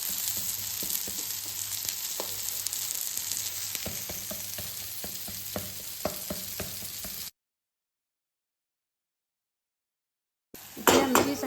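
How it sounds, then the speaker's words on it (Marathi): Semolina-coated marinated surmai fish fries in a pan with a continuous soft sizzle and occasional sharp clinks of utensils. It cuts to silence partway through, then returns briefly with louder clatter. "आता ही फ्राय करायला घेऊ रवा लावून."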